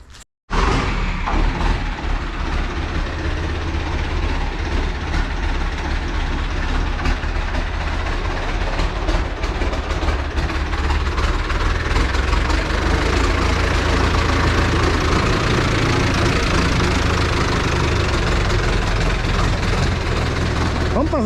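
A steady, loud tractor engine rumbles continuously at idle for the whole stretch, a heavy low drone with no clear talk over it.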